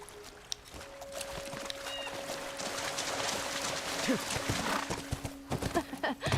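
A horse gallops in The Last of Us, hooves clip-clopping rhythmically amid game ambience, with a brief whinny and people talking over it.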